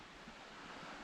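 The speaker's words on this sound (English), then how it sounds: "Beautiful, beautiful little bubbling brook, country stream." A small bubbling country brook runs through a shaded woodland gully, giving a steady, soft rush of flowing water with no voices over it.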